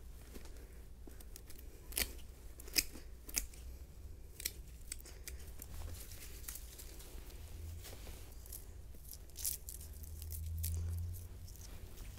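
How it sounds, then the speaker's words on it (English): Scissors snipping a potted thyme plant indoors, a series of irregular quiet clips and cuts spaced over several seconds, close but soft with no talking. "our thyme plant, I'm going to do the same thing, give it a really good haircut"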